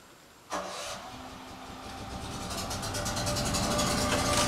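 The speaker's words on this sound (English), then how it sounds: "Generator's just fired up" An RV generator started by remote from under a patio cover: a sudden starting thump, then a steady mid-pitched engine drone that slowly builds and roughens as it settles in, heard fairly close and without speech.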